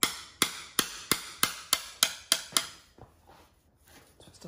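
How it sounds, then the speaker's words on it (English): A screwdriver is driven into a Land Rover core plug with about nine sharp, evenly spaced metallic hammer strikes, close and loud, followed by quieter scraping and tapping. "just put a screwdriver through it"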